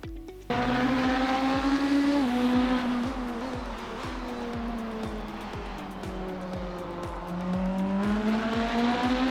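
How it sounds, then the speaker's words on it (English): A hypercar in the Le Mans Ultimate racing game braking hard, its engine note dropping in steps as it downshifts, rapid crackling pops over a loud rasping drone before the revs climb again, no talking. "use your engine braking and downshift quickly to get the car slowed down as soon as possible"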